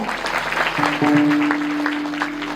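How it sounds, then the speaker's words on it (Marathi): A crowd claps for the singers at a kirtan, a brief burst of applause with a sustained tone ringing beneath it. "वा महाराज एक जोरदार टाळ्या"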